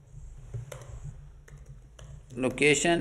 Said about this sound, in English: Now we are supposed to type location